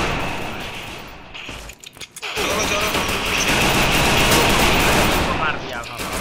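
Gunfire in the Free Fire battle royale video game, dense rapid automatic shooting that breaks off for a moment and then resumes in a loud continuous burst.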